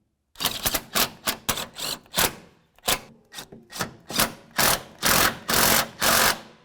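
Bolts on a Honda CR-V transmission mount are snugged with a ratchet, a series of about fourteen rhythmic clicking bursts, close and crisp, growing longer and louder toward the end, with no voices.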